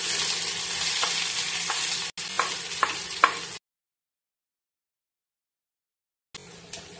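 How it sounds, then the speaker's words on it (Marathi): Finely chopped onion frying in hot oil for a Malvani prawn and potato curry, a steady loud sizzle with a few stirring clinks, cutting out to silence midway before resuming briefly. "कांदा चांगला परतवून घेऊया।"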